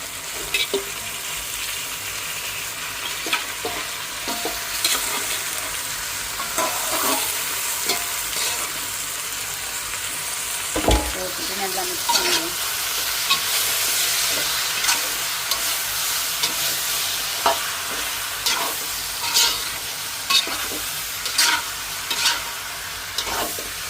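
Chicken pieces sizzle and fry in a pan with dried red chillies, a steady hissing crackle that continues throughout. Occasional stirring scrapes and a louder clatter come up close, with no voices.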